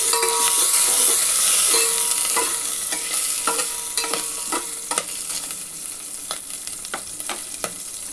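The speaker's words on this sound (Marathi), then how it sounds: "आणि हे काजू बदामचे काप पण टाकून देणार आहे. ते पण मस्त तुपामध्ये आपण" Cashew and almond slices frying in hot ghee make a steady close sizzle, with a spoon stirring and scraping the pan in light repeated clicks and no voices.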